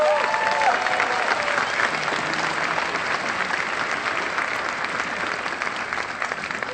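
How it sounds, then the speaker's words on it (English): An audience at a school district arts festival applauds student performers, a dense, steady wash of clapping that holds at an even level throughout, with a faint voice briefly audible near the start. "So give them a round of applause"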